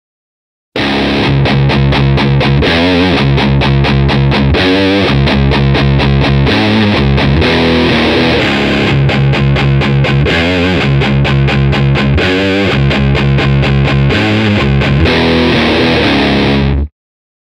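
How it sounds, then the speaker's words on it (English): A distorted electric guitar riff plays loudly and continuously, heavy chords with rhythmic chugging stops, played back through a custom-built speaker. "I quickly recorded a little riff on the guitar and fed it back into one speaker"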